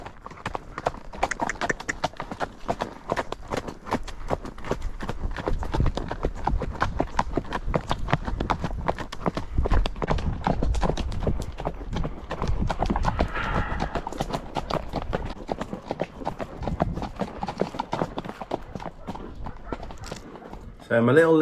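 Horse hooves clip-clopping steadily during a countryside ride in Crete, a close rhythmic trot throughout, with people talking over it.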